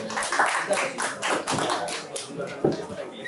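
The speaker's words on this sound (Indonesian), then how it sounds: "Kita aplaus buat Mbak Yanti." Audience applause in a seminar room, a scattered crowd of hands clapping steadily at moderate volume for a few seconds, with some voices murmuring underneath.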